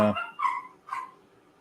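Several dogs bark indoors in a short burst, with two or three sharp barks spaced about half a second apart at moderate volume and no talking over them.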